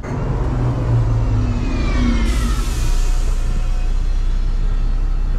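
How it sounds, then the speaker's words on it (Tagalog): A bus passes at a New Zealand bus station, its engine a loud, steady rumble and whir that swells slightly as it goes by, with no talk. "May dumaan pong bus 33 oh."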